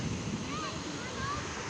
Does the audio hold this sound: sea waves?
yes